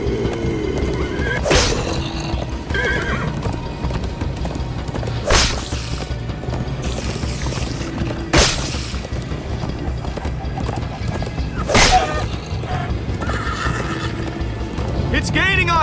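In a Minecraft Story Mode chase, a horse whinnies loudly several times over rapid galloping hoofbeats, with characters shouting and talking over the action.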